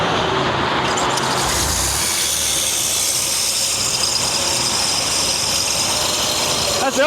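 A van's swapped motor runs at a steady idle, a constant loud mechanical drone with an alternator whine and a sparking pulley, with voices talking over it.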